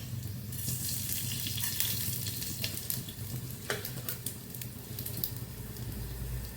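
Fenugreek seeds crackle in hot oil over low heat for a Bengali wood-apple pickle, a steady close-up sizzle with light clicks of stirring and no voices.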